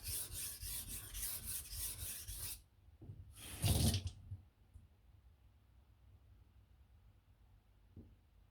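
A knife blade rasps across a sharpening stone in quick back-and-forth strokes for a couple of seconds, then one shorter burst of strokes, close and alone with no talking.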